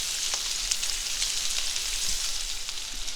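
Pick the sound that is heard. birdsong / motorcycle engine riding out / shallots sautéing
shallots sautéing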